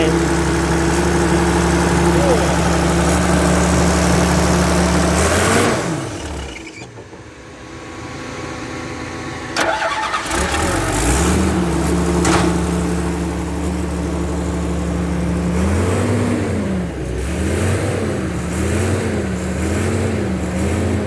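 A Komatsu PC150-5 excavator with a rebuilt engine, new pump and new turbo runs steadily at close range, its diesel hum dipping briefly mid-way before resuming, then wavering in pitch near the end.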